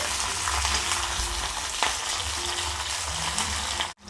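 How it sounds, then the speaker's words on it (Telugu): Green chillies fry in oil for a radish chutney, giving a loud, steady sizzle up close with occasional stirring knocks and no speech, cutting off abruptly at the end. "ఇది కొంచెం ఫ్రై కావాలి"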